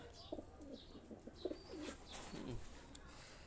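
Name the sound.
pigeons cooing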